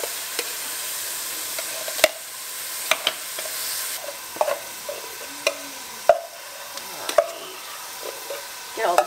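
Hot pot ingredients are sautéed with Chinese barbecue sauce in a pan, making a soft background sizzle with frequent sharp clacks and scrapes from stirring.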